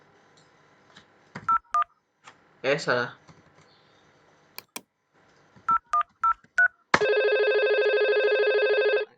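Keypad tones on an IP phone in a Cisco Packet Tracer VoIP lab: short beeps in two clusters, then a steady ringback tone, with a brief spoken word between them.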